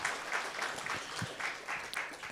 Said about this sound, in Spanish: vamos a recibirlos con fuertes aplausos